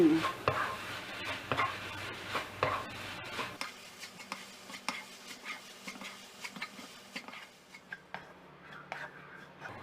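A spatula scrapes and stirs coconut filling tinted with orange food colouring in a pan, making repeated close, rhythmic scraping strokes with a soft background sizzle, loudest in the opening seconds and then steady and lighter.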